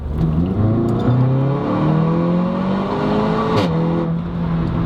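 A car engine holds at high revs, its exhaust droning loudly with slight rises and dips in pitch, close and continuous.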